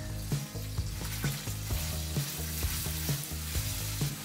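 Food sizzles steadily in a pan with a constant frying hiss, punctuated by regular rhythmic scrapes of stirring about twice a second, close and moderately loud.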